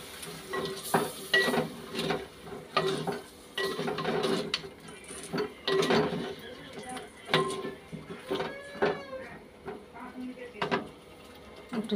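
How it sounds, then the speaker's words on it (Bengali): Spice masala is stir-fried in a pan with salt added, giving soft sizzling beneath repeated scraping and clinking of a spatula against the metal pan in irregular bursts, with a few quiet spoken words mixed in. "ভালো করে এখন মশলাটা কষিয়ে নিই।"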